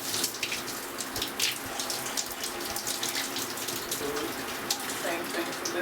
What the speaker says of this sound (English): Just drench my hair in water.